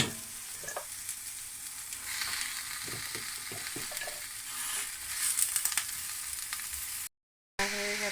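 Spinach greens from a home garden fry in a pan with garlic, onion and browned lentil dumplings, a steady close sizzle broken by scraping stirs and light taps, then a brief cut to silence.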